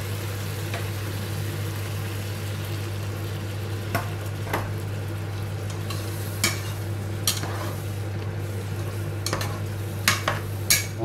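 Chicken stock stirred into a pan of curry-spiced Indian-style chicken, with a steady low hum, a soft ongoing sizzle and scattered light clinks and scrapes of a utensil against the pan, close and alone.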